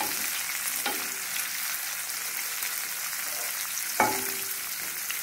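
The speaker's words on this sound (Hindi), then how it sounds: "गुलाबी होने तक हमको भूनना है।" Onions frying in a pan until pink, with a steady, even sizzle close by and two short scraping clinks of a spatula against the pan.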